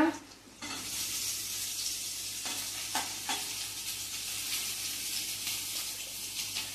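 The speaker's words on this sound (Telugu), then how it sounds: "ముల్లంగిని బాగా ఫ్రై చేసుకోవాలండి" Radish, onion and green chilli frying together for a radish and drumstick sambar, a steady, fairly loud hiss of oil with a few brief stirring scrapes, nearby and unaccompanied by speech.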